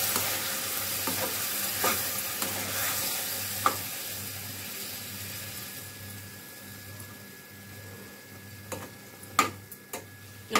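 Tomato puree added to a pan for brinjal curry, sizzling and frying steadily up close while being stirred, with occasional spoon taps and scrapes against the pan.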